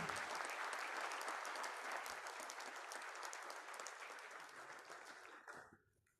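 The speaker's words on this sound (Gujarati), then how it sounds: "આવો જોરદાર તાળીઓના આદર સાથે આવકારીએ" An audience at a startup event in Baroda applauds to welcome Gujarat's chief minister with sustained, dense clapping that slowly thins and fades out near the end.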